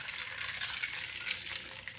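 A quick little stir of a rosemary grapefruit mocktail topped with freshly made sparkling water, giving a soft continuous fizz and swirling rustle close by, with no talking over it.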